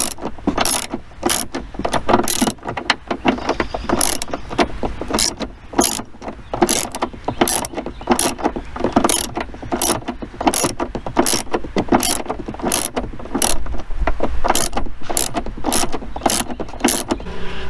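Close ratchet loosening a hatchback strut bolt on a fourth-generation Camaro, sharp clicks repeating in a steady rhythm throughout with a low background hum.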